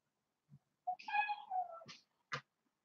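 A pet cat gives a single clear, close meow in a quiet room, with a few small faint noises just before and after.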